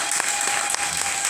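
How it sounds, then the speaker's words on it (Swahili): A church congregation claps together in a continuous stretch of dense applause, with a few sharper individual claps standing out. "Pigie Yesu makofi."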